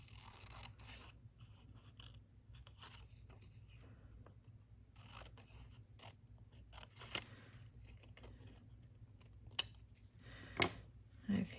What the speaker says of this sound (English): I think I want to cut it neatly so that I'm not destroying the paper.